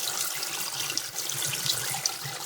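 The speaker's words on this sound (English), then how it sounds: "pump's on and running. You can see spray bar spraying." A pump runs in a 55-gallon bait tank, its spray bar spraying water in a steady hiss over a low continuous hum, close and constant.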